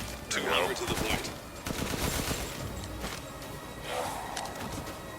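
Hip-fired gunshots in Resident Evil Village, a run of rapid shots in bursts at moderate loudness, with brief vocal sounds mixed in.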